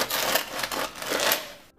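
Serrated knife sawing through the crisp crust of a homemade French baguette, a close, dry crackling scrape that comes in short rough bursts before stopping.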